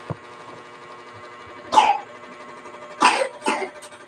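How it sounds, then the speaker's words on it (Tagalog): A few short, harsh coughs in two bursts, the second a quick pair, with quiet background between them. "Inuubo yung anak ko"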